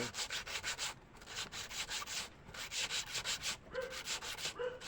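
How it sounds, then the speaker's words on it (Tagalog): Flat 20 mm PVC is sanded by hand in quick back-and-forth rubbing strokes, a close, rhythmic scratchy rasp repeated about a dozen times with brief pauses. "lihain natin ito Ihain muna natin ito"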